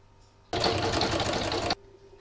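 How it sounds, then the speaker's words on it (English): An embroidery sewing machine runs a quick burst of stitching, joining two pieces of fabric with a rapid, even mechanical chatter that starts and stops abruptly, heard up close and alone. "I'm going to put it back in my machine and it's now going to stitch and join the two pieces together."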